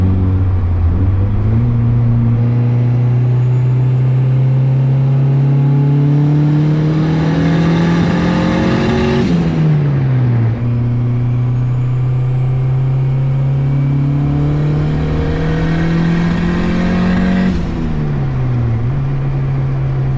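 Built turbocharged single-cam engine on about 28–30 psi of boost revs loud and steady in two long pulls, pitch climbing over several seconds before each abrupt drop, with a slight stumble near the top of the rev range.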